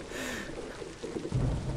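Rumbling thunder and steady rain fill a horror video game scene, low and soft in the background, with the rain swelling slightly near the end.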